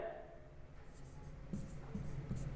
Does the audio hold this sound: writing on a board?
yes